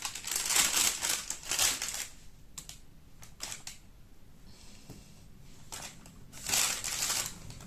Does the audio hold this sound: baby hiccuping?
no